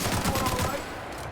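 Rapid video game gunfire shooting at monsters crackles as a dense, continuous fusillade. The shots run close together for just over a second and stay loud throughout.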